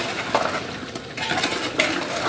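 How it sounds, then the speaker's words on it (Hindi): Yogurt being stirred into chicken in a pot for biryani, with a spoon scraping and clinking against the metal pot in quick, irregular strokes at close range. "तो ये सारी दही इसमें डाल देनी है, डालकर भी हम इसे अच्छे से मिक्स कर देंगे"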